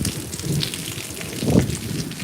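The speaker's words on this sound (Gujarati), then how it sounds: "વરસાદ બહુ વધારે થાય છે" Heavy rain pours onto flooded farm fields, a dense, steady hiss of drops with a slight swell partway through, close and loud with no voices.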